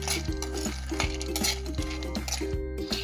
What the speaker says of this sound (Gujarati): એના પછી આપણે મખાનાને શેકી લઈશું